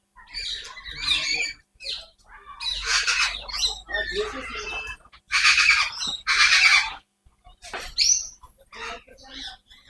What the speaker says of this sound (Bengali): এটা আসলে ব্রাজিলিয়ান ম্যাকাও